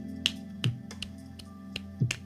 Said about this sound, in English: And I'm going to clap.